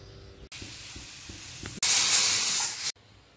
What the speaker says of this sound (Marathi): आता कुकरला आपण 3 शिट्टी घेणार आहोत.